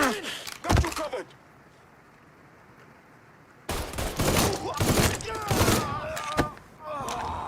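Gunfire in Mafia III: a quick cluster of shots, a quiet stretch, then repeated bursts of heavy firing, with shouted voices mixed in among the shots.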